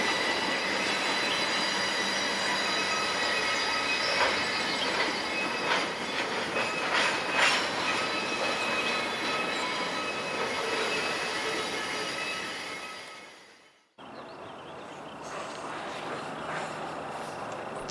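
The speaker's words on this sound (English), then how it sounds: "Here's another view of both trains entering the yard side by side." Two trains roll into a rail yard side by side, with a steady broad roar of wheels, hiss and high squealing. The sound drops off sharply near the end, then a fainter rumble resumes.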